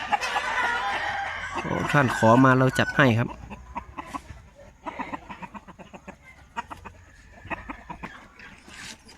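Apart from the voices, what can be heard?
rooster clucking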